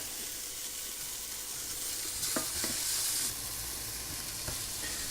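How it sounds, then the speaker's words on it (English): Onions and garlic sizzle steadily in hot oil for a chicken stew, a constant close frying hiss broken by a few clinks and scrapes as a utensil stirs the pan; no one speaks. "We're gonna start off by adding the onions and the garlic. Just give that a quick stir."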